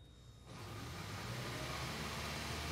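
A hybrid car's engine cranks over, a steady, fairly loud mechanical rush that starts abruptly after a short quiet moment and holds to the end.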